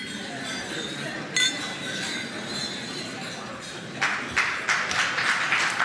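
Glasses clink during a toast at a state luncheon honoring the Australian Prime Minister, with a bright clink early on and a flurry of overlapping clinks later over steady room murmur.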